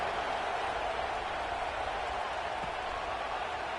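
Steady roar of a football stadium crowd at a Duke vs Clemson college game, a dense, even wash of cheering and murmur with no breaks, heard from a distance as the kickoff approaches.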